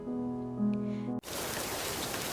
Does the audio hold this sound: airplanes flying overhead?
no